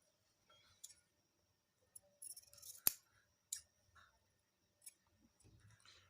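Scissors cut trouser fabric in a quiet room, making a handful of sparse, soft snips and one sharp metallic click, with silence between the cuts.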